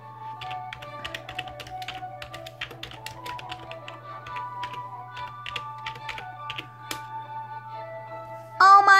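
Rapid, uneven tapping on a computer keyboard continues for several seconds, close and fairly quiet over a steady low hum, with a sharper clatter of keys near the end.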